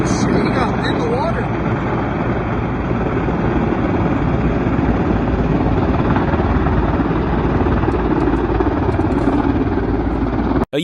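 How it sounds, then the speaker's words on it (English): US military helicopter flying low during a forced emergency landing in Bucharest city, a loud continuous rotor thump and engine drone close by throughout, cutting off abruptly at the end. "A US military helicopter makes a forced emergency landing right in the middle of Bucharest city."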